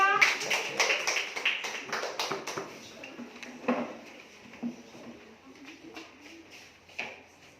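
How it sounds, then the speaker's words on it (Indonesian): Children in a classroom give a small group applause for a presenting group: a quiet, uneven patter of claps in the first few seconds, then sparse taps and murmuring voices. "Tepuk tangan dulu untuk kelompok 3."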